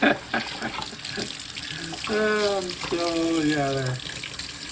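Tap water runs into a kitchen sink as green onions are rinsed for an egg salad sandwich, a steady close splashing stream with someone briefly speaking over it.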